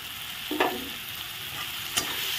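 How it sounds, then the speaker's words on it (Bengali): Potato, onion and tomato with meat masala and chilli powder fry in a pan under a steady sizzle, with two short spatula scrapes standing out as the mixture is stirred. "দিয়ে ভালো করে নেড়ে নিচ্ছি।"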